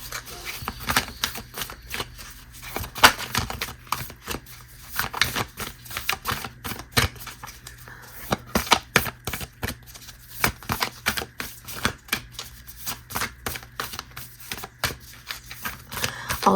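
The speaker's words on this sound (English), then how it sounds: "So we'll pull some cards from the Angels and Ancestors Oracle deck." Cards from the Angels and Ancestors Oracle deck are shuffled by hand in repeated riffling bursts of crisp, close slaps and flutters. No one speaks.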